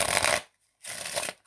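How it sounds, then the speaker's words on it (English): Cards from a deck of playing cards are shuffled in two quick riffles, close and crisp, separated by a brief pause. "Right, you can give the cards a shuffle."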